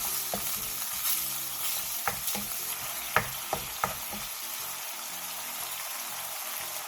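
Seasoning sauce bubbling in a pan with softened green onion and lightly golden garlic for a Korean side dish, a steady sizzle broken by quick stirring clacks and small pops, close and moderate, with no voices.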